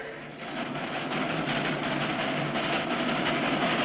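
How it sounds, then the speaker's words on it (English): A steam train pulls away and keeps running, a steady broad rumble with faint rhythmic clatter that swells slightly after the first moment and holds at a constant level. "Why not take the train? She's got up steam."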